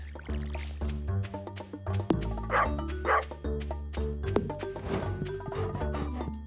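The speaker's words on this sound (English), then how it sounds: "Let's go see if the dog has anything interesting to say." The dog in the Stardew Valley video game gives a few short, bright barks amid cheerful background music and chiming game sound effects.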